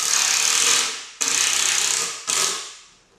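Cordless drill gun driving screws into a plywood aquarium stand for a 200-gallon reef tank: three loud, sustained whirring bursts, each starting abruptly and winding down as the screw seats, close and alone.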